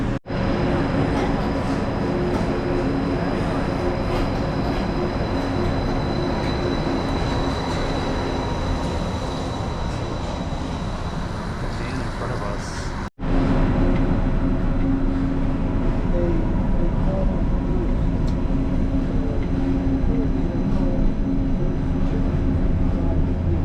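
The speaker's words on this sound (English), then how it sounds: "welcome aboard the Disneyland monorail" The Disneyland monorail glides along with a steady, loud electric whine and rumbling rail hum, heard from inside the car. A brief dropout midway is followed by continued motor drone.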